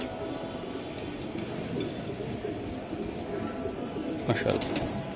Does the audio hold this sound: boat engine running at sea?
no